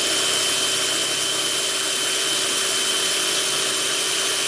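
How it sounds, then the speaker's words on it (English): A power drill bores steadily through the metal of a dump truck toward a hardened steel pin, a loud continuous high-pitched whine and grind with no pauses. "Now we're just gonna drill this thing out."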